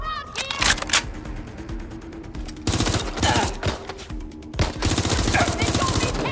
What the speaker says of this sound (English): I'm getting shot out here!